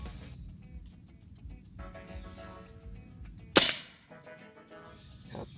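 A PCP Javali 9mm air rifle fires a single loud, sharp crack at a brick target, followed by a quick decay and quiet outdoor background before and after.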